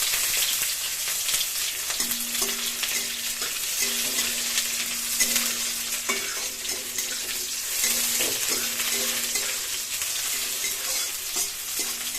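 Onions sizzling and frying in a pan while being stirred, a steady bright hiss with repeated scraping of the spoon, part of a pumpkin and prawn curry with coconut, continuous and close.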